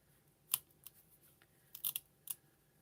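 Scissors trimming adhesive off a roll while quilting, a few quiet sharp snips: one at first, then a quick cluster of cuts, close and alone.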